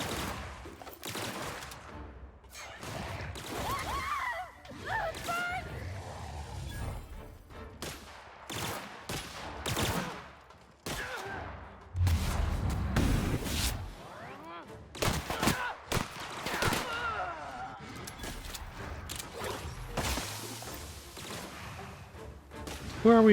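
Gunfire and combat in the sci-fi video game The Outer Worlds, with dense bursts of shots, thuds and crashes that run almost without a break, loud and close.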